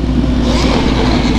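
A motorcycle with a long aftermarket exhaust revs loudly and close by, a continuous rising engine roar with a gritty mid-range tone over the short span.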